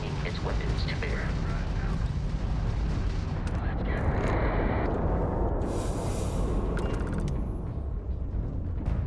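Crimson Fleet ship weapons firing during space combat in Starfield, with rumbling barrages and booming shots rolling continuously under a voice talking, plus a bright whooshing burst partway through.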